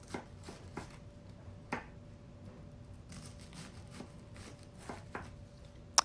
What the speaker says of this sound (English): Then I'm going to cut up a cabbage, and I'm only going to use half of this cabbage, just cutting it into bite-sized pieces.